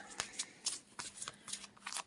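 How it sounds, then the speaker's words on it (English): A tarot deck being shuffled close up, with several quick riffling bursts in an uneven rhythm. "you shuffle the deck,"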